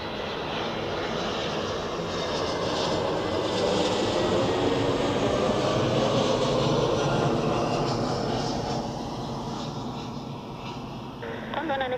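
A Eurowings airliner arriving from Palma de Mallorca at Zurich Airport makes a broad, steady jet roar that swells through the middle and then eases slightly, heard from a distance over a continuous rushing wash.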